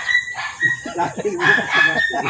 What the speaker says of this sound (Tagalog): Ano yung aso?